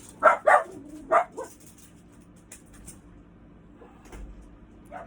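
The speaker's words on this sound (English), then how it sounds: "I don't know what he's barking at." A dog barks indoors: three sharp barks in quick succession at the start, then quiet room tone with faint shuffling and a soft thump, fairly distant and low in level.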